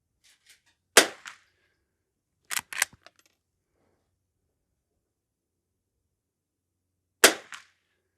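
Henry H001 lever action rifle firing bulk ammunition at targets: several sharp, clean reports, one early, a close pair a moment later, and one more after a long quiet gap, each decaying quickly with no talk.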